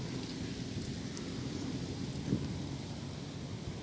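Steady, dense rain hiss from a typhoon fills the whole stretch over a flooded farm field, with a faint low rumble underneath and no voices.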